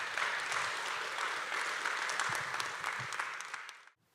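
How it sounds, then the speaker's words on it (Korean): An audience at a book concert applauds warmly, a dense, sustained wash of clapping that holds steady before cutting off abruptly near the end, with no speech over it. "우리 나오실 때 우리 뜨거운 박수 하도록 하겠습니다"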